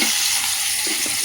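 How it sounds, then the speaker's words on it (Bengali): Koi fish frying in oil in a wok, a close, steady hissing sizzle that holds constant throughout, with no voices. "এবারে মাছগুলো তেলের কড়া চাপিয়ে দিয়েছি"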